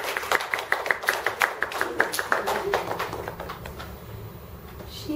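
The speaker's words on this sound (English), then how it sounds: "please give Machika a round of applause, girl." A small group of children and adults clap in a classroom-like setting, distinct individual claps in a quick irregular rhythm that thin out and fade after about three seconds.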